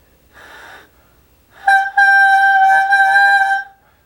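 A raspy, buzzy saxophone holds one sustained note for about two seconds, loud and close, after a short breathy attempt.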